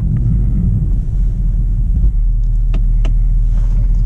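A car on bald snow tires grinds up a snowy driveway, a steady close engine rumble with wind buffeting the microphone and a few faint clicks near the end.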